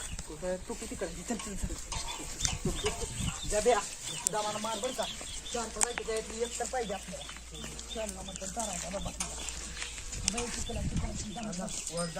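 Chickens cluck and squawk nearby in a busy farmyard while people talk over them.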